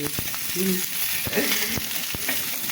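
Rohu fish fries in a pan with onion and garlic, giving a steady close sizzle and crackle of hot oil, with light scrapes and taps of a stirring spoon.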